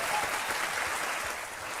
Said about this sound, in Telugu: మీ చప్పట్లు మీరు కొట్టడం ఆపద్దు